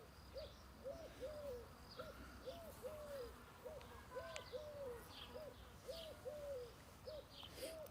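Pet birds coo in a steady, repeating rhythm, soft two-part calls recurring about every half second, fairly faint against a quiet indoor background.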